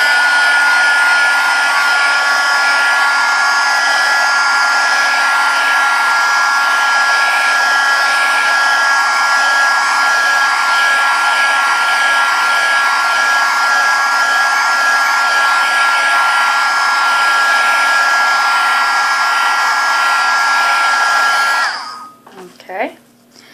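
A hair dryer blows on a painted cardboard canvas, a loud close steady whine and rush of air running unbroken for about twenty seconds before clicking off, followed by a few soft handling noises.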